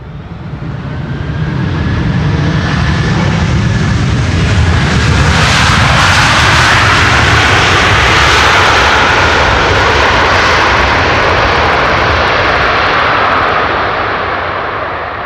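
A Delta Airbus A330 jet airliner lands on Schiphol's Polderbaan runway 18R. Its loud engine roar swells to a long peak and slowly fades as it passes close by, with no voices.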